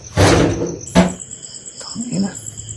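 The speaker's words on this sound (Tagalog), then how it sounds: "Dahil nang subukan kong lapitan at buksan ang pinto," A door swings open in an abandoned subdivision, with a rough scraping burst followed by a sharp bang and a few softer knocks and creaks, over a steady thin whine and quiet background noise.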